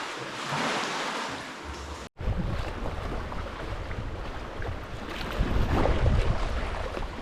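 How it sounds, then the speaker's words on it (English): Sea waves lap against a rocky coast with sea caves and stacks between Ackergill and Sandy Geo, a continuous close wash of water mixed with wind buffeting, cut by one brief dropout. "Nice and quiet, other than the lapping of the waves."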